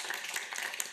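Audience applause at a city's State of the City presentation, a steady, fairly distant wash of many hands clapping with no gaps for the whole second.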